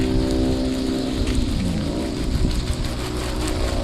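Water poured over onion plants in a vegetable garden, a steady close splashing patter like rain that runs on without pause and with no talking.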